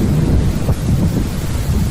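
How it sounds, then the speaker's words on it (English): A thunderstorm rumbles continuously, low thunder rolling under steady rain and wind buffeting the microphone, loud and enveloping throughout. "I want you to hear the storm a little bit too now that I think about it."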